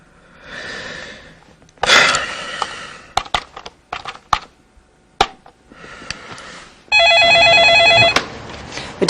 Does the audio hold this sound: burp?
no